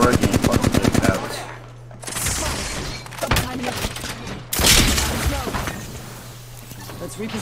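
Automatic gunfire from a shooter video game, a rapid burst of evenly spaced shots at the start, then scattered loud bangs and impacts over a low hum, with someone talking throughout.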